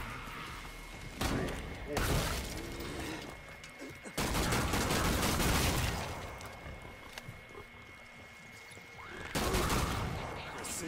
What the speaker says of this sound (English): Precision shooting every time